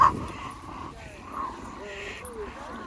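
Beagle dogs whimpering and yipping, faint high-pitched whines and short yips scattered across a few seconds in a quiet space, with soft human voices mixed in.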